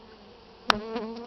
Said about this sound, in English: There's always less bees on the outside than the inside.